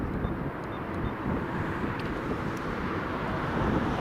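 A Transavia Boeing 737 on final approach at Newcastle International Airport, a steady distant engine rumble with some wind buffeting, continuous and moderately loud, no talk.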